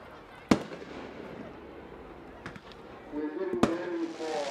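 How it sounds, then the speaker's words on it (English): Fireworks show bursts at a Soul Bowl high school football game, with a few sharp separate booms and pops over crowd murmur and an announcer's voice. "Fireworks show being brought to you by Aaron Lewis and Pyromania at Pyromania Fireworks."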